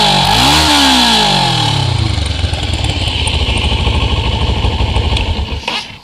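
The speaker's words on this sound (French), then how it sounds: "un petit coup d'accélérateur et on m'entend" A Yamaha FZ6 or Kawasaki ER6 motorcycle on a stock exhaust revs up sharply, then drops back into a loud, close, rough idle before cutting off near the end.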